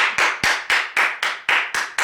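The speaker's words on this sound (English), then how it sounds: "Let me put this down so I can clap" One person claps steadily, eight sharp slaps spaced evenly about a quarter second apart, close and loud with no talking over them.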